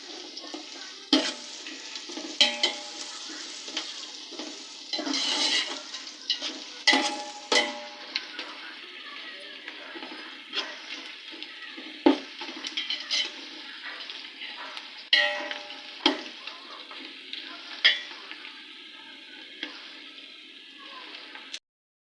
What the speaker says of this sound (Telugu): కోసుకున్నాక ఆయిల్, మసాలా దినుసులు వేగాక ఆనియన్స్ వేసేసుకోవాలి.